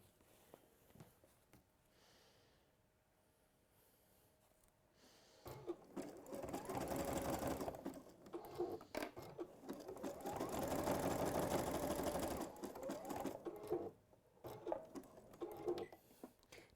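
Sewing machine stitching a folded fabric pouch, quiet handling at first, then two long steady runs of the machine's rapid mechanical whirr separated by a brief pause, ending with a few short bursts.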